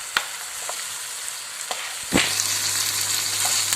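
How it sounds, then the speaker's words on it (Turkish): A savoury börek filling cooks in a pan while being stirred, giving a steady close sizzle with a few sharp scraping knocks of the spoon; no one speaks. "Evet yaklaşık şöyle bir 4-5 dakika bir karıştırarak pişiriyoruz."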